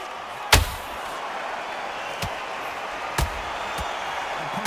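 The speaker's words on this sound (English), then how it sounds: "Perfect counter lands." Sharp punch impacts from an Undisputed boxing video game bout, one loud hit near the start and several softer thuds later, over a steady crowd roar.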